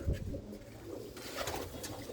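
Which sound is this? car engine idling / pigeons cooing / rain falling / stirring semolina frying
pigeons cooing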